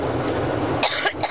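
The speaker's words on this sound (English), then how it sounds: "Her press conference there aboard her new campaign plane, interrupted by a coughing fit" A woman coughs repeatedly during a press conference aboard her campaign plane, a rough burst of several close, loud coughs in the second half over steady cabin engine drone.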